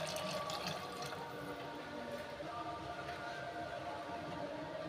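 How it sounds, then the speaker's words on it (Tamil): Water from a mixer jar is poured into simmering fish curry masala in a kitchen, a faint, continuous splashing trickle. "தண்ணியா வேணும்னா நான் மிக்ஸி கலவுன தண்ணி கொஞ்சம் ஆட் பண்ணிக்கிறேன்"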